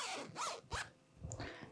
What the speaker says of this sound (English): Let's first close up the zipper.